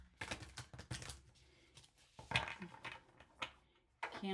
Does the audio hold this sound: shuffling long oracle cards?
yes